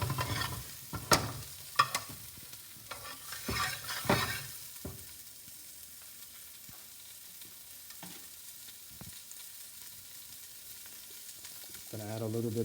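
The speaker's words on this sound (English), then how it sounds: "Now we're gonna put these carrots in here." Carrots land in a frying pan with a few sharp clatters and scrapes, followed by a faint, steady sizzle that carries on alone.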